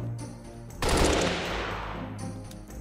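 A burst-fire gun from the Halo mod in the video game Unturned fires one sharp loud burst that rings out and decays over a second or so, with no speech.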